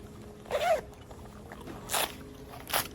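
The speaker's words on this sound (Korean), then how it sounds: "이게 뒤쪽에도 지퍼가 있어가지고" A zipper on the back of a Harley-Davidson riding jacket is pulled in three quick, close rasping strokes, spaced about a second apart, with no talking.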